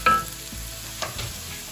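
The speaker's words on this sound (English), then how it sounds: "Now I'm gonna fry the onions in here, get them cooked down." Onions frying in a pan after bacon, a soft sizzle with a couple of utensil scrapes and clinks as they are stirred, close and quiet, no talk.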